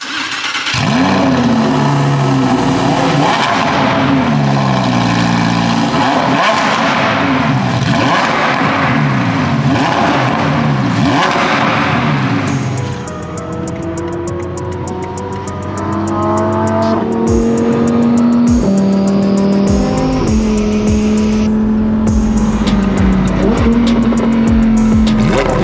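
A car engine cranks and fires up, then revs and pulls away as the car is driven, with loud, steady engine drone and gear changes throughout, ending in continuous road-driving engine noise.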